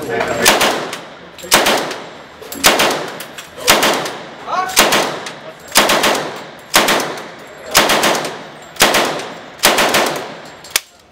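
A machine gun fires at a Las Vegas shooting range, loud close bursts at a steady rhythm, about ten sharp blasts each trailing off into echo before the next one.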